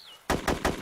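Machine gun fire in an online shooter game, three loud rapid bursts close by, following a brief high whistling tone at the start.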